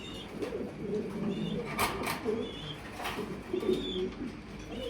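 Fancy pigeons cooing steadily in a loft over about five seconds, several soft, throaty calls overlapping at close range with light background noise and no talking.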